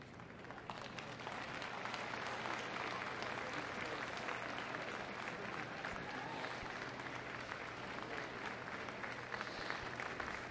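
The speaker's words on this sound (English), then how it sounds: "give her a round of applause." Arena crowd at the Crufts 2014 heelwork to music freestyle competition applauds, a broad, even roar of distant clapping from a large audience sustained steadily throughout.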